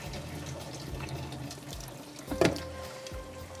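Cooked rice water drained into a kitchen sink, a soft running and splashing flow with a brief louder gush midway, fairly quiet and close.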